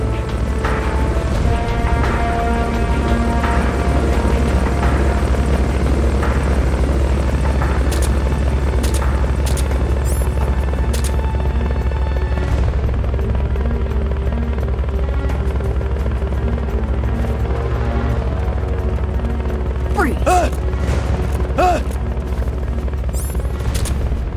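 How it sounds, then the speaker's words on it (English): Recovery helicopter in the video game Metal Gear Solid Peace Walker, a loud steady rotor drone with deep thumping low end running throughout, joined by sharp metallic clanks and bursts near the end. "Recovery helicopter is complete."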